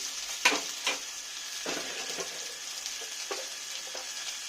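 Spice masala fries in a pan for a Rupchanda fish jhal, with onions already fried, giving a steady close sizzle broken by a few sharp stirring scrapes near the start and later.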